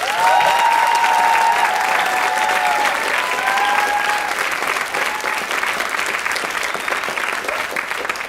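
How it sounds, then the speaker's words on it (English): A large audience at a school theater workshop claps loudly and steadily, the applause holding strong throughout and tapering only slightly near the end. "So let's give them another round of applause."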